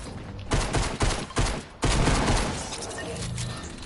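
Rapid bursts of gunfire in the Fortnite Chapter 2 video game, several loud volleys in quick succession with short gaps, then a sustained roaring tail of shots and echo.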